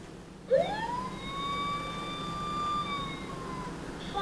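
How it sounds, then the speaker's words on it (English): A VTech toy fire truck sounds its electronic siren: a tone sweeps up and then holds a steady, bright wail close by for several seconds, with a faint low hum beneath. "Fire truck."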